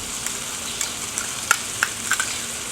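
Fresh garlic fries with bacon in a pan, giving a steady close sizzle with scattered sharp pops and crackles and the occasional light stir.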